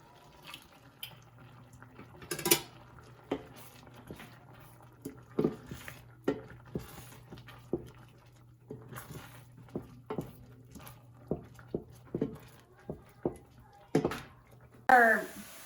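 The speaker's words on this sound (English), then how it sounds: "My risotto is ready for another ladleful" A ladle scrapes and taps against a pot while creamy risotto is stirred and broth is added, giving scattered soft clinks and wet splashes over a low steady hum.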